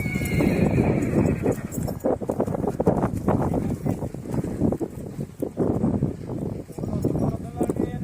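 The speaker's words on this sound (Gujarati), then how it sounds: "હાલ ઘોડે" A village horse neighs loudly while its hooves clip-clop continuously nearby outdoors, with gusty wind buffeting the microphone throughout.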